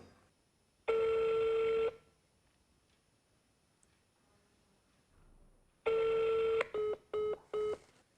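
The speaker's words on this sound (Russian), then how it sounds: "Давайте попробуем позвонить Сергею Артееву." A telephone dialing out to a candidate's number in the Komi region: two long steady tones separated by a quiet gap, then a quick run of three short dial beeps, loud and clear with no talk.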